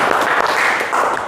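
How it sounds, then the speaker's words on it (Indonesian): Brief burst of classroom applause for a student group after its presentation, dense close clapping from many hands, short and loud. "Tepuk tangan untuk kelompok 2"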